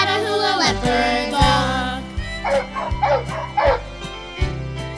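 A blue male Louisiana Catahoula Leopard Dog barks in a run of quick, moderately loud yips and bow-wows over steady background music.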